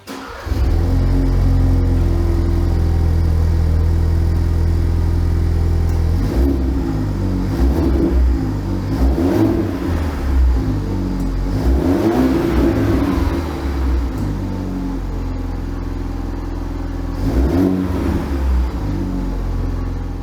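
A 2021 Ford Bronco with a 2.3L EcoBoost four-cylinder and MBRP exhaust rumbles at a steady, deep idle, then rises in several loud revs that fall back to idle, close by with no talking.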